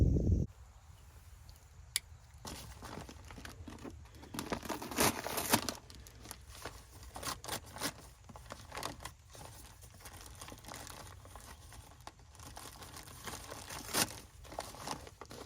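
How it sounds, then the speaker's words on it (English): Paper seed bags lined with plastic crinkle and rustle up close in irregular bursts while a winter rye and hairy vetch cover crop mix is handled, and no one talks. "Plastic inside of these paper bags."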